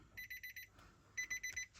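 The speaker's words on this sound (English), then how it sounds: "So let's get the ignition on, get all the beeps out the way" A car's ignition warning chime sounds as two bursts of rapid, evenly spaced electronic beeps, five to six in each burst, clear and close with a short gap between them.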